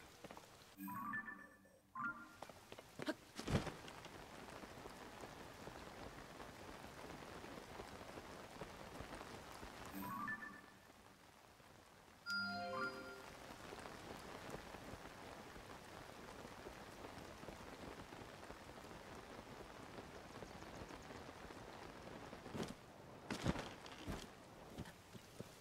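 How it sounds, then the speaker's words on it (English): Rain in the video game Zelda: Tears of the Kingdom, a steady hiss of falling drops that continues throughout, broken by a few short louder bursts of game sounds. "And of course, it's raining."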